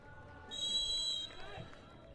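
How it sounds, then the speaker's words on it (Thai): Referee's whistle blown to start a Thai FA Cup quarter-final football match, one sustained shrill blast lasting under a second, heard at a distance over faint stadium crowd noise and low commentary. "เป่านกหวีดเริ่มการแข่งขันครับ"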